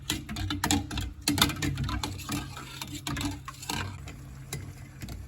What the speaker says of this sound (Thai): น้ำเริ่มเดือดนะครับ